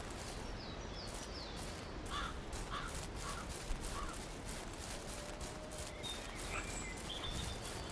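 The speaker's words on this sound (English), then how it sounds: "You can shoot those, but you don't get any credit for them. The crows" Crows in the hunting game Hunting Simulator cawing in a scattered series of harsh calls over steady outdoor ambience, moderately distant and fairly quiet.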